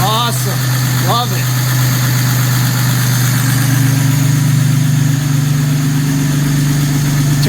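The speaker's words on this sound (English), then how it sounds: "Engine starting run up and running smoothly" A Jaguar XK150 carburetted engine idles steadily nearby with an even, throbbing low rumble that holds constant throughout, a couple of short chirpy sounds early on.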